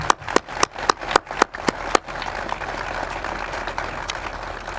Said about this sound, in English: Please give all these people a big round of applause.